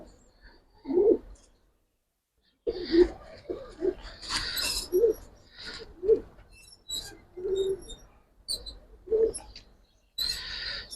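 Giribaz and coloured pigeons coo up close in a series of short, throaty calls, repeating every second or two with brief quiet gaps and some faint rustling between them.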